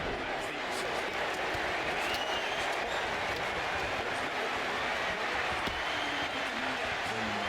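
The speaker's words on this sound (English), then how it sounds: "God, the crowd is so loud." A dense crowd roars and claps continuously in the wrestling video game WWE 2K25, a loud unbroken wash of cheering and applause with a faint voice underneath.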